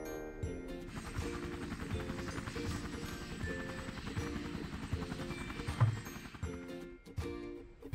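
Cartoon helicopter flying in a Hindi kids' car-city cartoon, a steady whirring rotor drone with tonal engine hum running throughout, ending with a brief bump and fade as the sound cuts away.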